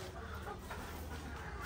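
A hen on a small free-range country chicken farm clucks in short soft bursts over a constant background hum, fairly close.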